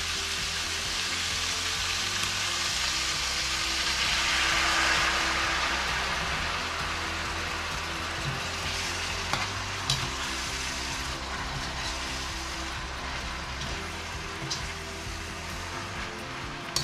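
Mixed vegetables sauté in a pan with soy sauce, a dense, steady sizzle of moderate loudness with a low background rumble and a few faint clicks, with no voices.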